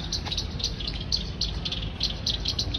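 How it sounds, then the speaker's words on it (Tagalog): Birds in a housing subdivision chirp in short, high repeated calls over a steady background hiss of insects, moderately distant, with no talk. "meron nga palang mga ibon dito"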